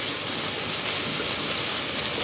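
Onions sizzling in olive oil in a wide-bottomed pan over medium heat, a steady close broadband hiss and crackle with no break.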